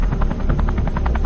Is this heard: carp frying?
no